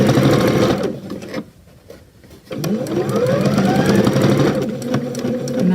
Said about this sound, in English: Reverse stitch and sew all the way down the side.